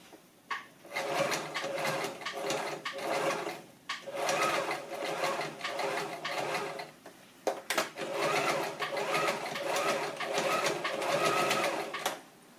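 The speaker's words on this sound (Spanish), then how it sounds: "simplemente coser el pespunte y después el sobrehilado" A sewing machine stitching a seam and overlock edge on a child's backpack runs in long rapid whirring bursts, close and loud, pausing briefly between passes.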